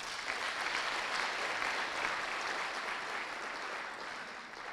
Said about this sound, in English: If you can just clap for yourselves.